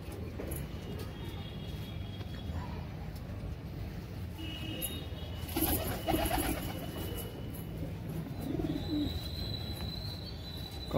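Pigeons cooing softly in a loft or market setting in Delhi, faint low coos recurring amid background hum and someone talking nearby.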